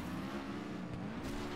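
Race car engine from the FlatOut Ultimate Carnage video game, a steady droning hum at moderate level with a brief tire-squeal hint near the end, no talk over it.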